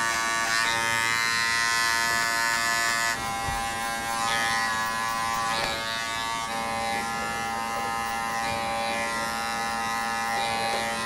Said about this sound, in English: I ran the clipper all the way open, then halfway closed, about halfway up